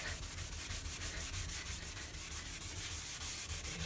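Someone scrubs hard at cigarette burn marks on a sink, a continuous, rapid back-and-forth rubbing that is close, loud and steady throughout, with no voices.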